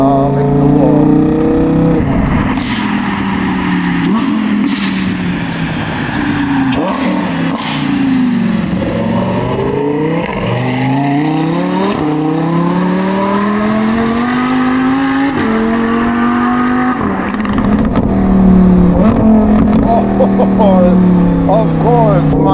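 A Lamborghini Huracan Tecnica with its 5.2-litre naturally aspirated V10 and Novitec exhaust revs and accelerates loudly, sweeping up and down through repeated gear changes with sharp crackles, while someone talks over it.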